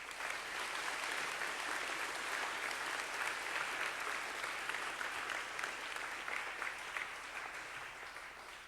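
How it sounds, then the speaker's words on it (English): At an academy spring signing day, an audience gives sustained applause for the spring sports teams, steady dense clapping at fairly low volume that tapers slightly near the end. "Please give a big round of applause for our spring sports season."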